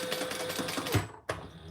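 A flatbed sewing machine stitches over D-rings on a crossbody bag, a brief burst of fast, buzzing needle strokes that pauses for a moment and then resumes, close and fairly loud, with no one talking.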